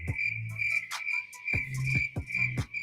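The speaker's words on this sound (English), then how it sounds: "so many crickets, it's almost like the crickets have taken over the house" Crickets chirp indoors in a house in a steady high-pitched trill, close and clear, with a few low thumps and knocks in between and no talking.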